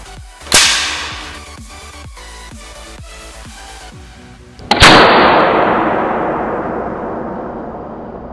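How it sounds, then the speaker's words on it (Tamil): A homemade potato gun fuelled by body spray ignited inside a bottle fires twice, each a sharp loud bang with a decaying rush, the second followed by a long fading roar. "நம்ம லைட் பண்ணுறப்ப உள்ளே க்ரியேட் ஆகிற ப்ரெஷரில் பாட்டில் மவுத்தில் இருக்கிற பொட்டேட்டோவை அது ஃபோர்ஸாக தள்ளி விடுது"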